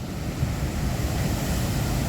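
Ocean waves hit a break wall about 80 feet away, producing a continuous low rumbling wash with some wind buffeting, with no voices.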